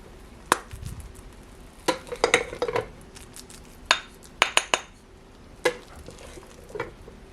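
Spoon scraping and clinking as coconut milk rice pudding is scooped from a Dash mini rice cooker into a small Christmas bowl, with several sharp close taps and scrapes spread across the moment, no talking.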